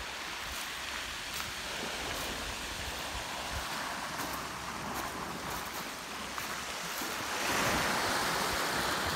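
Ocean surf washing up on a beach along the wash zone, a steady broadband roar of breaking waves with wind on the microphone, swelling louder near the end.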